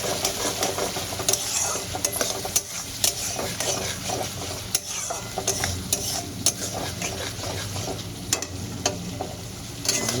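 Green chilli and garlic paste is stir-fried hard in a pan, with a loud, dense sizzle and continual scraping and tapping of the spatula against the metal.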